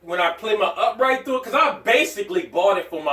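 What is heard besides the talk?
No everyday noise stands out behind the speech.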